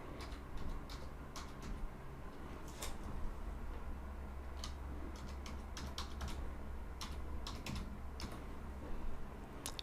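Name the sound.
typing an email address on a computer keyboard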